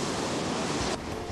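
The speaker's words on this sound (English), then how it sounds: "It's a windy day in March" Steady roar of wind and breaking surf on a beach in Herzliya fills the whole clip, loud and broadband, easing slightly in the final half second.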